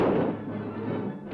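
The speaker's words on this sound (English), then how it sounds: "Our troops lob in grenades to flush out the snipers." Grenade blast in jungle combat, a single heavy, muffled boom that rolls on with a low rumble, loud and close, with no voices.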